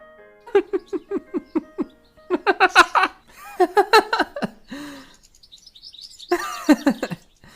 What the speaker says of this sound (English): Sing cuckoo now.